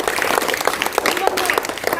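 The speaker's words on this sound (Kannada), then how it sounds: "ಆ ಮುಖೇನ ನಾವೆಲ್ಲರೂ ಅವರಿಗೆ ಸ್ವಾಗತವನ್ನು ಚಪ್ಪಾಳೆ ಮೂಲಕ ಜೋರಾಗಿ ಕೋರೋಣ" Audience applause welcoming guests at a school event distributing books and pens to children, a brisk crackle of clapping hands, fairly close and loud, with voices audible alongside.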